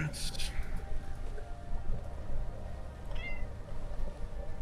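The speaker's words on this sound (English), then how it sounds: "I hear a cat." A cat meows twice, a short high cry at the start and a fainter one near the end, over a steady background hum with a voice talking faintly.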